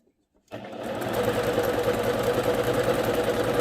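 A sewing machine stitches a dense satin stitch for fabric appliqué, starting abruptly after a brief silence and then running in a fast, steady mechanical whir, close and loud, with no talking.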